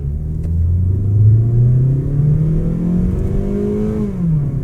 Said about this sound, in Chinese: 然后大家知道 Mazda Skyactiv-G 引擎的引擎噪音